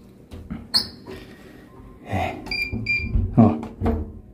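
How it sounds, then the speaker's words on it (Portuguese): An apartment door is moved back and forth, giving a few short creaks and squeaks with soft knocks, close by and moderately loud, with no talking over them. "se você mexer na porta, ó, ela faz esse barulho"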